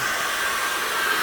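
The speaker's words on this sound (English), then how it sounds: "Get the hairdryer again" Hair dryer blowing steadily at close range, a loud continuous whooshing hum with no breaks and no speech, used on acrylic paint.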